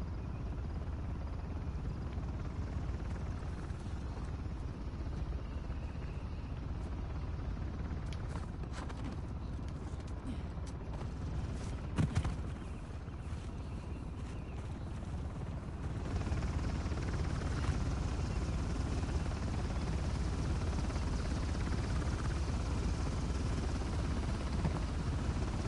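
A helicopter in the video game Uncharted: The Lost Legacy, a continuous low rotor thrum and engine rumble under the game's ambient noise, steady throughout and getting a bit louder toward the end, no talk.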